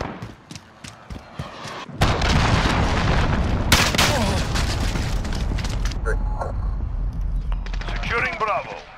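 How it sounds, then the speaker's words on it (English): Cruise missile strike in a Call of Duty: Modern Warfare multiplayer match, a heavy booming blast that erupts abruptly and rumbles on for several seconds amid gunfire and crashing debris, with in-game voice callouts over it. "Enemy cruise missile incoming."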